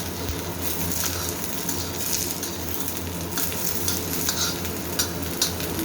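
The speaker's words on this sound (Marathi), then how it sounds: "हे पहा आता याला छान असं परतून द्यायचं वांग्याला पण" Chopped brinjal sautéed with onion in a pan gives a steady close sizzle and fry, with scraping stirs and faint clinks of a spatula throughout.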